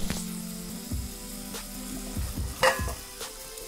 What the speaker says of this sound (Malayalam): വേവാകുന്നവരെ നമുക്കിതൊന്ന് നന്നായിട്ട് ഇളക്കി കൊടുക്കാം